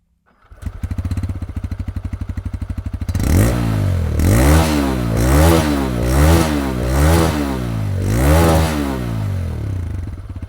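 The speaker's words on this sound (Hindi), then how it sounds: "आपको इसका एग्जॉस्ट नोट सुनाता हूँ" A 2025 TVS Raider 125 dual-disc motorcycle idles with a rapid, even putter, then revs repeatedly in loud, rising and falling bursts, its exhaust note close and alone.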